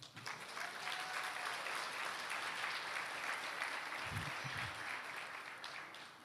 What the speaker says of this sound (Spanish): Pero date un aplauso, porque tú hoy fuiste elegida.